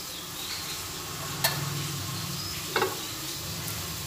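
Fried lentil dumplings are stirred into a sizzling neem leaf and vegetable curry, a steady close frying hiss with a couple of sharp scrapes of the spoon against the pan.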